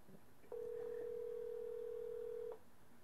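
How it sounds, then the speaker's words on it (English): A steady tone from a VoIP computer call dialing out to an Android cell phone, holding evenly for about two seconds and then stopping, with faint room noise around it and no talk. "Now, in a second, you'll hear my computer dialing out."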